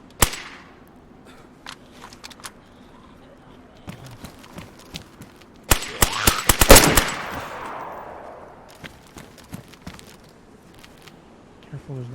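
Unsuppressed gunfire in a video game: scattered single sharp shots, then a loud dense volley with a trailing echo midway, with talking in between.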